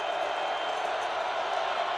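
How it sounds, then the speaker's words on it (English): A football stadium crowd at an FCS playoff game roars in a broad, steady wash of cheering, distant and continuous without distinct whoops. "In the crowd now really revving things up."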